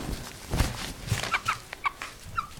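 Pet chickens kept indoors, resting under a cover in their pen at night, give a few soft, low clucks followed by short higher chirps. The sounds come close by and sparsely, in a quiet room.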